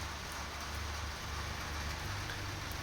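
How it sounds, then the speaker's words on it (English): Early morning rain falls steadily over Medjugorje, a continuous soft hiss of drops with a low rumble beneath and no voices. "right now, rain in Medjugorje in the morning"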